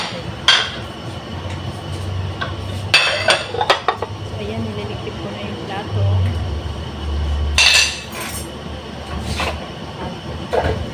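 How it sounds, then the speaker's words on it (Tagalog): Plates and dishes being cleared away, with sharp clattering clinks in scattered bursts over a low background rumble, some faint voice sounds in between. "habang nagliligpit pala ako ng plato"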